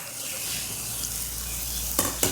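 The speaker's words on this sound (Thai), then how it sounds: "เรารวนไปเรื่อย ๆรวนในกระทะเทฟลอนนะครับ" Steady sizzling of chicken stir-fried without oil in a Teflon pan, with a couple of scraping stirs near the end, close and continuous.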